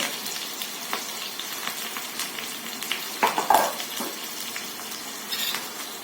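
Tomato purée sizzles and sautés in a pan while being stirred, a steady quiet frying hiss with a few louder scraping stirs near the middle and no talking.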